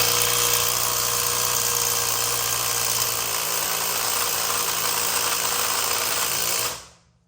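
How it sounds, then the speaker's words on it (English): A 3/8 impact wrench on a car's lug nuts makes a loud, continuous buzzing whir that runs steadily for several seconds and then cuts off abruptly. "we're gonna find out if a 3/8 impact will pull off my lug nuts here"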